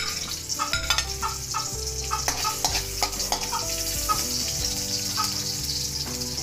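Ginger sizzles in hot oil in a pan while a utensil stirs it. The frying crackle is steady and close, broken by irregular scraping knocks.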